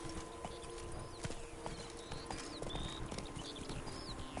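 Horse hooves clip-clop steadily at a walking pace in The Witcher 3 video game, with a few faint whinny-like tones over a constant ambient background.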